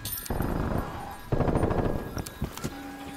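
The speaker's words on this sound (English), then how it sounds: "Multiple enemy sentry turrets active." Sentry turrets firing in Call of Duty: Black Ops Cold War, with two dense bursts of rapid automatic gunfire, each lasting about a second, followed by a few scattered sharper shots and brief electronic tones.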